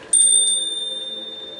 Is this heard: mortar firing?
no